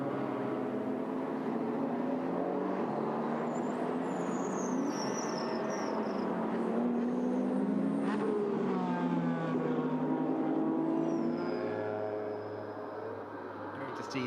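GT race cars in the SRO GT Cup at Zhuhai circuit approach turn 1, engine notes rising and shifting as they pass at middling distance, heard under steady commentary.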